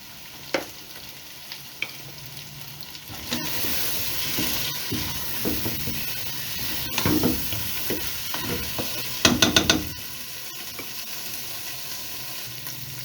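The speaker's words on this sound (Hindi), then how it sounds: "आलू अच्छी तरह से भून चुके हैं गोश्त के साथ और मसाले के साथ।" Potatoes frying with meat and spices for aloo gosht, giving a steady loud sizzle with scraping stirring strokes and a few clinks throughout.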